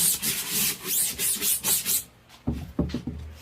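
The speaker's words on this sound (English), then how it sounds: "you get a coarse bristle, and then you just rub it in" A coarse bristle brush rubbing degreaser into a silkscreen printing frame, producing a run of rhythmic scrubbing strokes up close, followed by a few sharper knocks and scrapes as the frame is handled.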